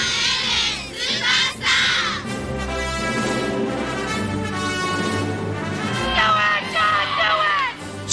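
A huge football stadium crowd at a Denver Broncos game screams and cheers continuously, loud and close, with shouting voices surging and swelling throughout.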